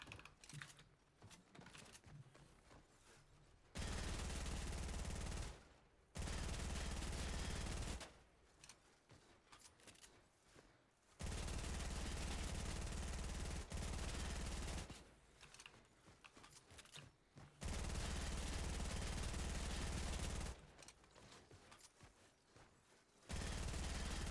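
SMG fire in a video game comes in long sustained bursts of several seconds each, separated by quieter gaps that hold a few faint clicks, with no talking.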